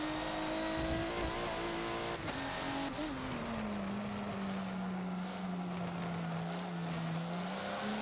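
Racing cars lapping the Indy GP track in Forza, a steady droning engine note that drops in pitch and then holds, with brief tire squeals and other cars faintly nearby.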